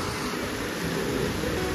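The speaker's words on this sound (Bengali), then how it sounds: "এতক্ষণ এখানে চড়া রোদ ছিল, আর এখন এই জাস্ট বৃষ্টি শুরু হলো।" Rain begins falling in Patuli, Kolkata, after harsh sunshine. It makes a brief, steady hiss of even, moderate noise with no voices.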